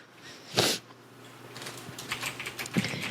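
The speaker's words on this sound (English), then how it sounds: "What are you typing?" Keyboard typing in a room, a run of quiet, rapid clicks that picks up in the second half, after a brief louder noise near the start.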